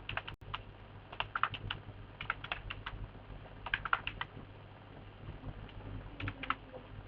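Computer keyboard typing as marks are entered into a spreadsheet, bursts of quick, light key clicks separated by short pauses, close and quiet over a low steady hum, with no talking.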